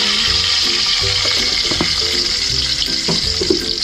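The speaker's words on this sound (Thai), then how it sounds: "แล้วก็ทอดหอมแดงจะจะใส่ตัว เกลือไปนิดนึง" Shallots frying in hot oil with a pinch of salt, giving a loud, steady sizzle throughout, with stirring clinks and scrapes scattered over it and no talking.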